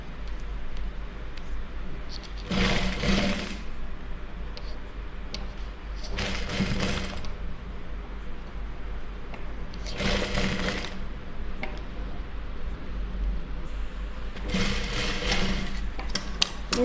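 Short bursts of a sewing machine stitching stacked fabric strips for a decorative neck design come at intervals, each a brief close rattle of the needle, over a steady low background hum.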